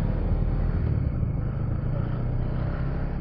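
Honda CBR150R motorcycles on a group ride give a steady, continuous engine and road rumble, heard from the rider's position with wind noise and no talk.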